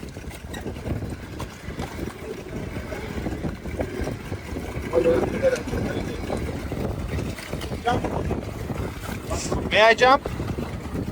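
A motorboat engine, reported as overheating with its radiator failing, runs steadily on the water off Zanzibar under strong wind buffeting on the microphone, while people talk over it.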